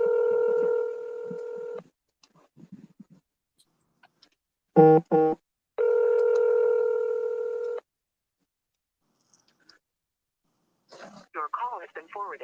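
Telephone call being placed: sustained ringback tones alternate with a rapid burst of touch-tone dialing beeps, followed by a brief electronic voice prompt, clear and close with little background.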